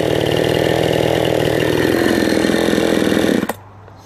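A Trueshopping 52cc gas chainsaw idling with a steady, buzzing two-stroke putter, close and loud, then cutting off abruptly near the end.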